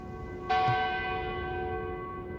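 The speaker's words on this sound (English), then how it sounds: "The bell erupted into action, vibrating Mike's bones." A large church bell struck once, a sudden loud clang whose rich ringing overtones hang and slowly decay, heard alone without any voices.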